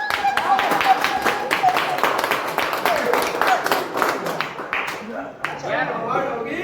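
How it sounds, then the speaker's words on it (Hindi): Audience clapping at a small vlog event, with scattered, uneven claps that rise into a moderate round and taper off, heard alongside voices talking. "तालियां बजाओ यार"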